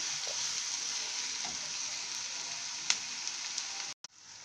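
Onions sizzle steadily in hot oil with green chilli and curry leaves, a continuous close frying hiss with a few faint clicks of a utensil near the end.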